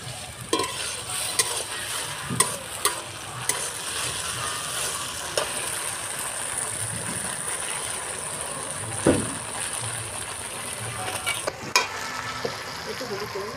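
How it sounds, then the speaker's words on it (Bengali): Ginger-garlic paste sizzles in hot oil with fried onions over medium heat, a steady broadband hiss with repeated sharp scrapes and clacks of a spatula stirring the pan, close and continuous with no talking. "এবার আদা রসুন বাটাটা দিয়ে দেবো।"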